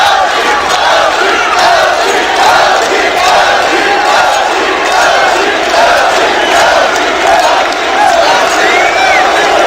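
A packed esports arena crowd at a CS:GO match roars with cheering and chanting. The noise is loud, dense and continuous, swelling slightly in waves for the whole stretch.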